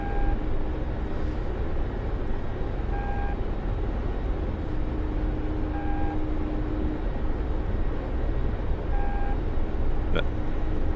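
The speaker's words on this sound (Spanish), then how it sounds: "ese tono que suena así cada tanto, cortito, eso es un radar de búsqueda." A search-radar warning tone sounds in the DCS flight simulator from inside an Mi-24 Hind helicopter hunting a convoy, as a short, periodic high beep repeating about every three seconds over a steady, loud engine and rotor drone.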